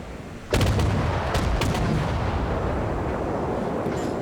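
Naval artillery broadside in World of Warships: a sharp, heavy volley bursts in near half a second, followed by further booming salvos around 1 and 1.6 seconds, with rumbling decay carrying on loud to the end.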